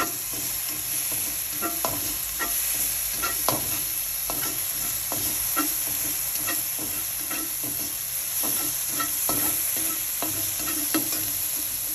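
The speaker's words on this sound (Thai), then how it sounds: "เกียวกระเทียมไฟอย่าแรงนะคะ ผัดเครื่อง ให้หอมก่อนค่ะ" Garlic and curry paste stir-fried in a little oil over gentle heat for a Thai stir-fry, a steady close sizzle running throughout with frequent light clicks and scrapes of a spatula against the pan, no voices.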